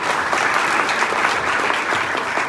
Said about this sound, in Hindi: मेरी मम्मी, जिसके लिए मैं एक बार जोरदार ताली चाहूंगा